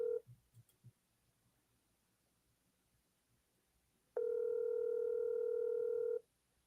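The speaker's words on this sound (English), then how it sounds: "It's definitely still ringing." A few faint clicks, then quiet, followed by a single steady telephone ringing tone lasting about two seconds before it stops.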